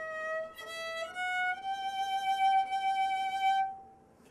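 A violin plays the third measure of Symphony No. 7, a few bowed notes that slide into one sustained, clear tone held for a couple of seconds before it stops, solo and close.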